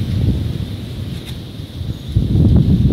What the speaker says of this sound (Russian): Ураганный ветер.